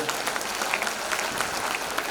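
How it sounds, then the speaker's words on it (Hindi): Loud applause from an audience at a celebration event honouring a performance, steady dense clapping throughout with no speech. "एक बार जोरदार ताली आप बजा दीजिए"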